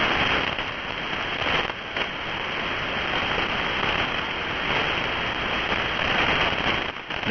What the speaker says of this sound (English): It's raining here, and I have a high noise level.